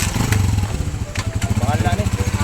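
A motorcycle engine sputters and catches, then settles into a close, loud, rhythmic chugging idle while people talk over it.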